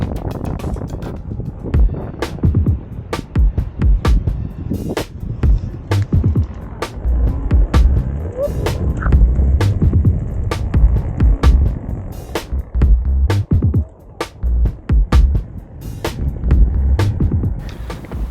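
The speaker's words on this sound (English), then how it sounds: "That rattling that you hear, that's my helmet." A helmet rattles while its wearer rides a KingSong S22 electric unicycle on a 30 km commute to school, sharp irregular clicks running over a steady rolling hum and wind rush, close and constant.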